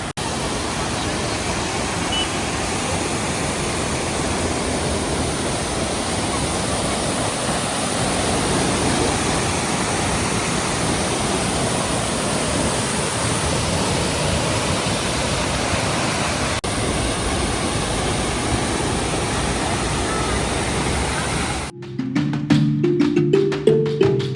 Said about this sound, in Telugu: ఈ వాటర్ ఫాల్స్ చూస్తున్నారా ఎంత బాగుందో